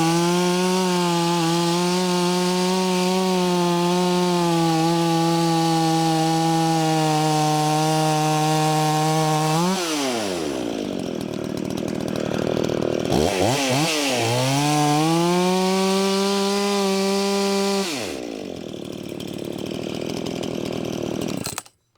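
Chainsaw cutting through wood slabs, a loud steady engine whine under load that dips and revs back up between cuts, then resumes and runs on to the end.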